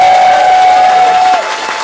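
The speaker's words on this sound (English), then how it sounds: "could we have a quick practice round of applause" A loud, close burst of practice applause from a comedy-night crowd, with a sustained whistle-like tone riding over the clapping before it trails off.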